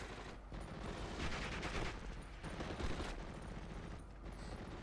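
Mortar and small-arms fire in the Normandy 1944 strategy game Steel Division, rendered as quiet, continuous distant battle rattle with overlapping bursts and thumps.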